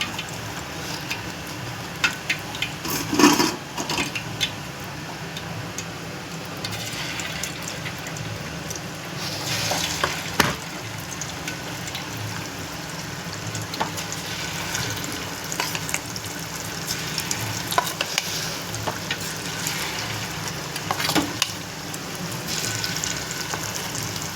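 Pieces of chicken 65 frying in hot oil at home give a steady bubbling sizzle, with occasional louder crackles and spatters over about twenty-four seconds.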